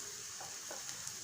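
Green chillies frying in a pan, a faint, even sizzle with a few soft crackles, no voices.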